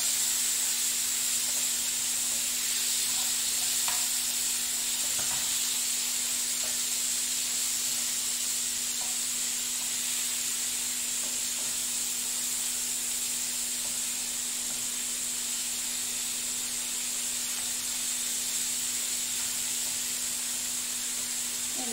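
Cherry tomatoes sizzle in a pan as they cook down with rendering fat, a steady soft hiss heard alone with faint occasional pops.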